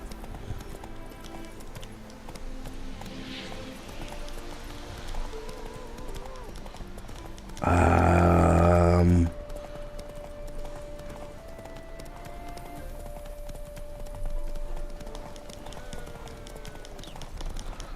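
A horse trots in The Witcher 3 with steady clip-clop hoofbeats running through the whole stretch, mid-distance, joined by a loud burst of game sound in the middle, with someone talking at times.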